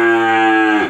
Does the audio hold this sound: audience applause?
no